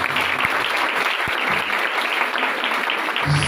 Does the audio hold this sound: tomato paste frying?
no